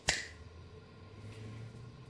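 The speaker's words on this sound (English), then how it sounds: "if I snap my fingers it'll do it for me" A single crisp finger snap rings out close and clear at the start, then fades into a quiet room.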